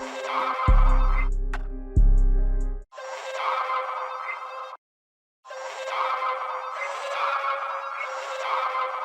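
A synth key one-shot played in FL Studio for a trap-style one-shot kit, sounding as bright, sustained chordal stabs that repeat in bursts with a short gap, after a heavy low bass hit at the start.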